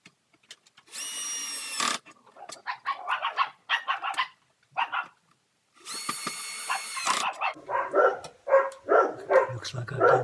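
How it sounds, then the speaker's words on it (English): Neighbour's dogs bark in repeated rough bursts between two loud stretches of power-tool whine during a plastic welding repair on a laptop desk, the barking clustered and fairly near. "Looks like I've done something to annoy the neighbour's dogs."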